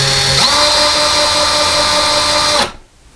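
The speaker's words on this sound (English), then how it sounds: "we're going to drill a very small pilot hole just to see if there's a stud behind it" Power drill boring a small pilot hole into a wall to find a stud for a clothing pole, a loud steady whine close by that shifts pitch early on and then stops abruptly near the end.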